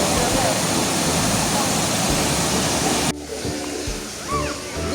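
A stream rushes loudly with water flowing, then drops to a softer babble as voices chatter in the background.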